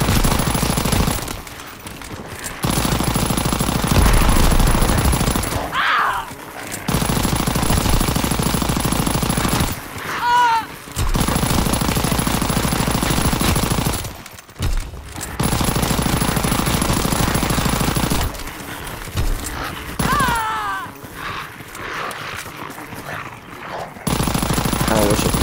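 Bursts of light machine gun fire in the video game Call of Duty WWII Zombies, long sustained volleys of rapid shots broken by brief silent gaps, with short chirping electric effects between bursts.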